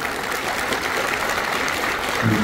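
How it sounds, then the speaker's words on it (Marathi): An audience claps for a guest welcomed onto a club stage, a dense steady wash of applause lasting throughout, with no talk over it. "अरे जोरदार टाळ्या झाल्या पाहिजे."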